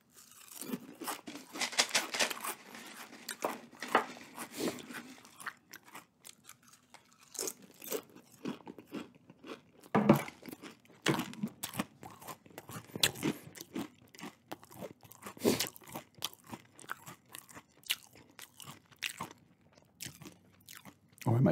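Crunchy Nacho Cheese Doritos Minis being chewed close up, with dense, irregular bursts of crisp crunching and munching that continue steadily without pause.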